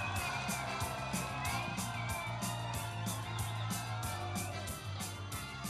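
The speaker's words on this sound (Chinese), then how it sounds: "我们苗栗的乡亲给他掌声鼓励一下" A large crowd cheers and applauds at a political rally in Miaoli, Taiwan. The loud, continuous roar carries steady rhythmic clapping throughout.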